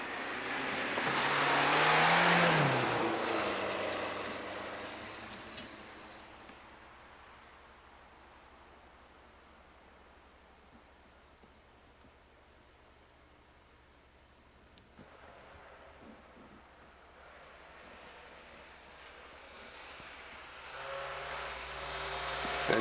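A VW Scirocco rally car at the 1989 Rally of the Tall Pines passes close with a loud broadband engine roar and rising pitch, then fades into steady distant rumble before another car builds in at the end.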